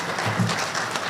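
At a school board meeting, an audience applauds students for a writing competition win with a steady wash of clapping, heard only briefly.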